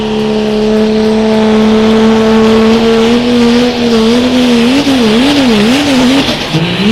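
A pulling tractor's engine roars loudly and steadily under heavy load at a tractor pull, then its pitch wavers and bounces near the end as the throttle backs off.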